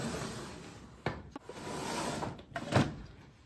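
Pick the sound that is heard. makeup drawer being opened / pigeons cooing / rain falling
makeup drawer being opened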